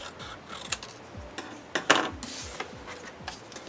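Scissors cut blue cardstock for a handmade gift bag tag: soft, close snipping and rustling paper with a few sharper clicks of the blades, quiet and unhurried, no voices.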